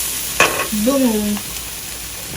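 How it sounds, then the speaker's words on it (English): An egg fries in a hot skillet, giving a steady, quiet sizzle throughout while a person briefly speaks a single word over it. "let the egg get more color on the other side"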